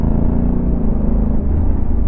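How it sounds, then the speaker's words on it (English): A Honda CRF1100L Africa Twin DCT adventure motorcycle, 2022 model, rumbles steadily through a downshift before braking, a continuous close engine drone with no clear rev peaks. "Here I am adjusting the gearbox, you see? I have to reduce before I start braking."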